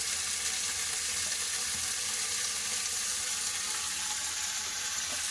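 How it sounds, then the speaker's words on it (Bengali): Broad beans frying in a pan with neem flowers give off a soft, continuous hiss that stays fairly quiet and steady from start to finish, with no talking over it. "নিম ফুলের পর সিমটা ভালো করে ভেজে নেবো"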